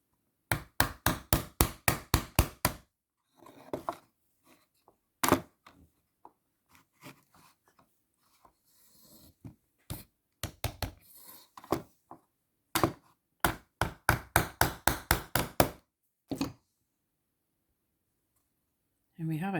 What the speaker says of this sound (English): I'm going to use these smaller 13mm pins to do that